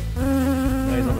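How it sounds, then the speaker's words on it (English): A bee buzzes right beside the face, a steady close drone with a strong tone that holds for about a second before fading, with no talk over it. "I have a bee flying in my eye right now"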